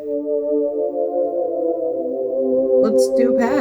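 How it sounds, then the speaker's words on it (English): A sustained synthesizer pad preset holds a smooth, steady chord at moderate loudness, with a brief voice breaking in near the end. "Let's do a pad."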